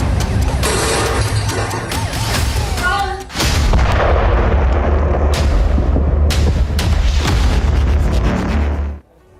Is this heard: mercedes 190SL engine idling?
no